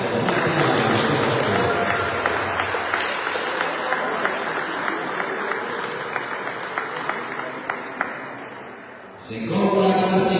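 Sustained applause from an audience at a veterans sports awards ceremony in Alghero, dense and steady for about nine seconds before it briefly dips and a fresh burst swells in loudly at the end.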